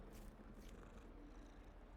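A cat purring in the video game Hogwarts Legacy, a low, steady rumbling purr, close and continuous over soft background noise, with no talking.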